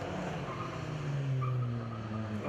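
Race cars circling the track at Cadwell Park during a BRSCC summer race weekend, a continuous engine drone rising and shifting in pitch as cars pass at a moderate distance.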